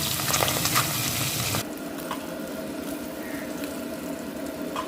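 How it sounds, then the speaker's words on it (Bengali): Small fish frying in about four tablespoons of oil in a wok for a fish curry, a steady dense sizzle that shifts in texture partway through, close and continuous with no talking. "তো কড়াইতে দিয়ে দিচ্ছি আমি চার টেবিল চামচ মতো তেল এখন কয়েকটা কয়েকটা করে আমি ভেজে ভেজে উঠিয়ে নিব মাছগুলোকে"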